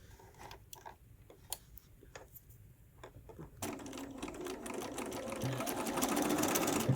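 A sewing machine stitches a quilt seam off the corner of a diamond inset, starting with sparse ticks and short bursts, then settling into a steady, close, rising whir for several seconds.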